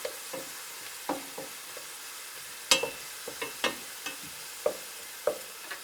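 Garlic frying in a pan as the base for mussels in tomato sauce, giving a steady soft sizzle broken by sharp crackles and stirring clicks roughly every second, close by with no talking.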